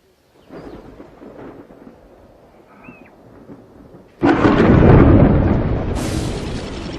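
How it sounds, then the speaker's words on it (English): A thunderstorm sweeping over African bush, heard as a low rumble that suddenly breaks into a loud, sustained roar of thunder and rain lasting several seconds, with no voices present. "The storm ignites the bush"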